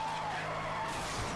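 A car drifting in the Need for Speed Hot Pursuit racing game gives a sustained tire skid and squeal over engine drone, loud and continuous, shifting in tone near the end.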